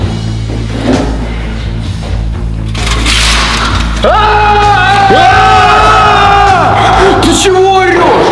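Several people shout and yell loudly, with rising bellowing voices overlapping in the second half after a rumbling, noisy start.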